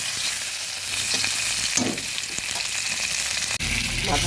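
A rui fish head fries in hot oil, giving a loud, continuous sizzle with faint stirring scrapes close by.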